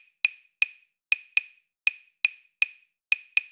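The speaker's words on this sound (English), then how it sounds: "That's called a clave, or more specifically, a son clave." Two wooden sticks play a son clave rhythm, sharp dry clicks in an evenly spaced repeating pattern, close and crisp against silence.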